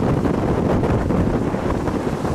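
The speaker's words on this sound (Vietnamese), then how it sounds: "Hôm nay thì gió hơi mạnh." Strong sea wind roars steadily across the microphone aboard a small boat off the coast, a loud, unbroken rushing blast with no pauses and no voices.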